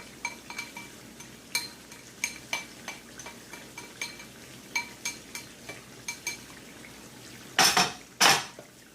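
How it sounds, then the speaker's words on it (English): A spoon stirs chili base into browned meat in a pot, scraping and clinking against the metal in a steady rhythm, closing with two louder clanks. "So stir in the chili base."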